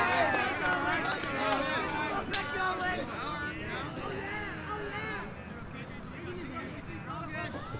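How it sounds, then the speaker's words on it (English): Cricket chirping at a 5A high school baseball game between Casteel and Higley: a steady train of high, rapid chirp bursts repeats throughout, under ongoing crowd noise and talk. "Or the cricket sound is just amplified."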